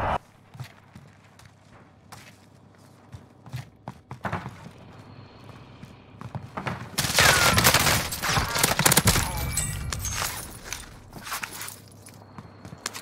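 Call of Duty Warzone air strike: quiet scattered sounds at first, then a loud, dense burst of rapid gunfire and explosions that rumbles on for several seconds before fading.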